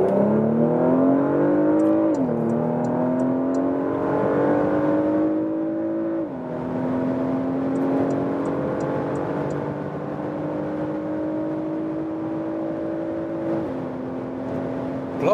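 A Porsche Macan S with a 2.9-liter V6 accelerates hard from 40 km/h on a German motorway. The engine note climbs steadily through the gears, with brief dips at each upshift, heard as a loud, smooth drone from inside the car.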